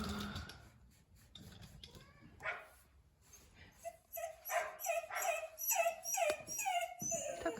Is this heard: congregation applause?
no